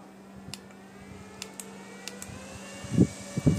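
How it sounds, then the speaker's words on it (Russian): Two Nitecore NEF02 and NEF03 handheld fans run at the same time, giving a quiet, steady whir with a low tonal hum. Faint clicks and handling knocks break in now and then, and nobody talks. "Да, маленький больше шума издает. Меньший объем самого вентилятора."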